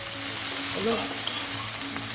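Dhekia fern greens frying in a pan sizzle steadily and close, with a quick scraping stir partway through.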